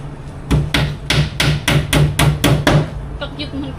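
Small hammer striking during carpentry work, eight sharp, evenly spaced blows in quick succession, loud and close, followed by a few fainter taps.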